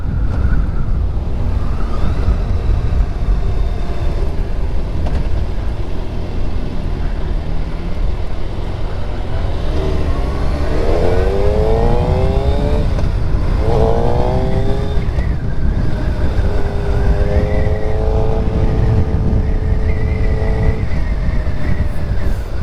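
A Suzuki Hayabusa motorcycle ridden on the road, a loud continuous engine roar under heavy wind rush, with rising and falling tones as it revs up through gears and settles again.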